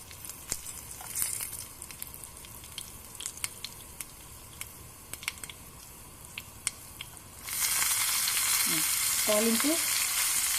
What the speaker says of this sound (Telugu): తాలింపు వేసుకోవాలి.